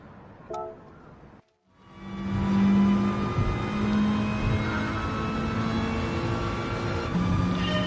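Mitsubishi Evo engine droning steadily on the Tokyo Expressway city circuit in Gran Turismo Sport, loud and sustained after a brief gap, with a few short tonal blips near the start.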